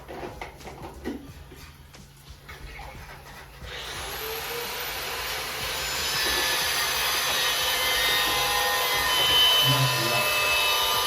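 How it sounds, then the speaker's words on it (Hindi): Construction work carries on outside, heard from indoors as a steady broadband grinding, sawing-like roar that swells in after a few seconds and stays loud and continuous to the end. "बाहर कंस्ट्रक्शन चल रहा है, वो काफ़ी नॉइज़ होता है।"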